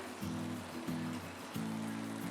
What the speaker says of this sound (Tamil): இப்போ இதில் ஊற வச்ச ரைஸ் சேர்த்துக்க போகிறேன்.